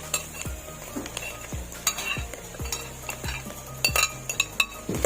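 Chicken pieces fry with mushrooms in a hot pan, a soft sizzle under repeated scraping and clinking of a utensil stirring against the metal in an irregular rhythm, close and clear.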